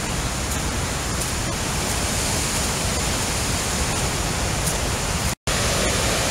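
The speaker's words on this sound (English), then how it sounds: "That's the white water rapids of the New Ganges. Can you hear it roaring?" Roaring white water rapids of the New Ganges river, a dense, steady rush of water that stays loud and close throughout, with a very brief dropout near the end and no talking.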